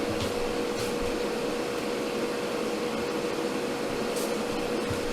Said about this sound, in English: sorry about the running fan, I hope you can hear me